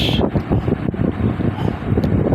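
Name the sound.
strong wind blowing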